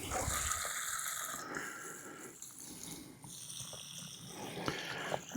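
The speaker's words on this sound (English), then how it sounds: "we're going to throw some more water on those begonias." Water splashing and gushing steadily from a hose onto begonias in an outdoor garden bed, a continuous close spray with small shifts in flow, no speech over it.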